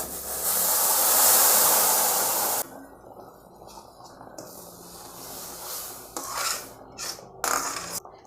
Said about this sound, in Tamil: சூடான தண்ணி எடுத்து நம்ம ஊற்றிடலாங்க.